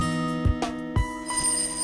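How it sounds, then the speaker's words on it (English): In the visual novel video game Fox Hime, a school recess bell rings out as a steady electronic chime with sustained tones and several soft struck accents, heard clearly on its own. "Then the recess bell rang."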